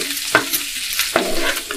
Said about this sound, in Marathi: छानपैकी तेलामध्ये असं परतून घ्यायचं आहे वाटण